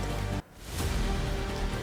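Heavy rain pouring in the Delhi NCR area, a dense steady roar of falling water with a brief drop in level partway through before resuming.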